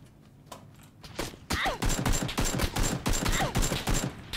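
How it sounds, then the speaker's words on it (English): Gunfire in the video game PUBG, a few scattered shots followed by rapid bursts of automatic fire with sharp repeated cracks, loud and continuous over several seconds. "Someone's shooting at me."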